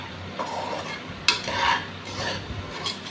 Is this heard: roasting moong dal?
yes